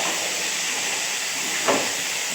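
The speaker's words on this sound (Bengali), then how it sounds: "এই যে উচ্ছে কুমড়ো তরকারিটা বসিয়েছি।" Bitter gourd and pumpkin curry sizzles in a pan with five-spice tempering, dried and green chillies, salt and turmeric, giving a steady, soft frying hiss with one brief louder spurt near the end.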